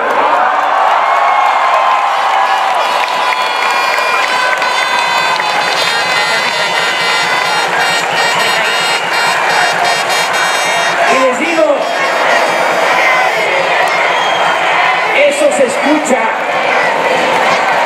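A huge political rally crowd at a campaign-closing event in Mexico City's Zócalo cheers and shouts continuously, a loud sustained roar with swelling chants throughout.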